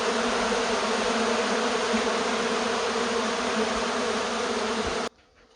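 Honeybees buzzing inside a honey extractor centrifuge, a dense, steady, loud drone of many bees that stops abruptly near the end.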